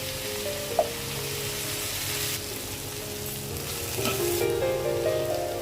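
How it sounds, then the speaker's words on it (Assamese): Onions frying in a pan for an Assamese-style chicken dish give off a continuous close sizzle with a low steady hum beneath it and a single small clink early on. "পিয়াজখিনি ভজা হৈছে"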